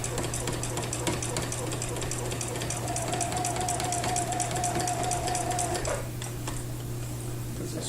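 A sewing machine stitches steadily while quilting fabric in the ditch, a continuous close mechanical whir with rapid ticking and a low hum, slowing near the end.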